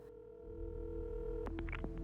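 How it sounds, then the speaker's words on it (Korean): A steady telephone dial tone on a line in a spy thriller film, holding alone and level for about two seconds, with a few faint clicks and tones near the end. "추적을 피하기 위해 24번의 전화선을 에릭의 아파트 32번과 바꾼 후 CIA 유럽 지부장 헌터에게 전화를 겁니다"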